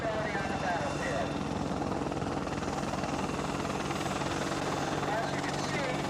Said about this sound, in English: The AH-64 will eventually replace the AH-1 Cobra as the Army's primary attack helicopter.